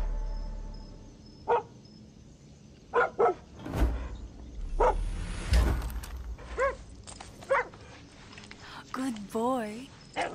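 A dog in the video game Far Cry 6 barks and yips in short bursts against a quiet game background, with a few other game sounds and a brief whimper-like pitch wobble near the end.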